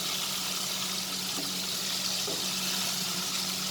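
Prawns frying in a pan over medium heat give a steady, even sizzle that holds at the same level throughout, with no voices.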